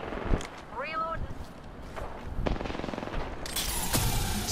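Enemy gunfire in the shooter game Apex Legends rattles in bursts of rapid shots, growing denser toward the end, mixed with game effects and a voice speaking over the action.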